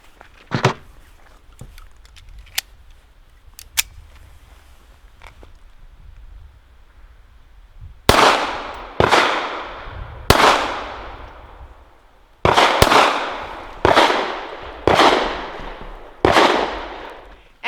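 Walther PPK/S pistol firing 95 grain ammunition outdoors, faint distant reports at first, then seven loud close shots with echoing tails in an uneven sequence of singles and pairs.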